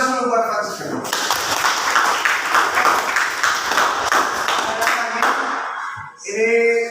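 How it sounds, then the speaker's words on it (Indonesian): A class applauds for a student: several seconds of dense, close clapping from many hands, with a voice speaking briefly just before and again as the clapping fades out. "Aplaus dulu buat Francisca"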